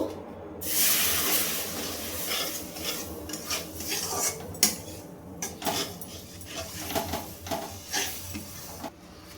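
Semolina stirred in a pan as water is added little by little: clinking, scraping spoon strokes against metal with short hissing bursts, fairly close and irregular, with no speech.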